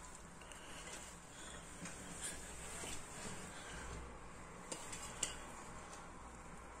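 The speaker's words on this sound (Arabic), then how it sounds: "هلا بدي اسكبهم بالصحن" A spoon clinks a few times against a plate while boiled potatoes are served, with faint, sparse taps over a quiet kitchen hiss and no talking.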